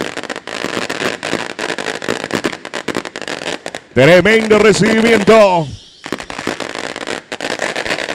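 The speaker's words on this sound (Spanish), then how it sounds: "Petardos por doquier." Firecrackers go off at a local Liga Limpeña football match in Limpio, as dense rapid cracking bursts. The crackling pauses briefly while a commentator speaks, then resumes loud and close.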